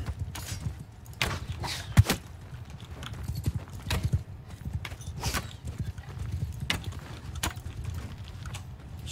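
Horse hooves galloping in the Bannerlord video game, a steady, fairly close clip-clop that continues for about nine seconds, with a faint whinny in the mix.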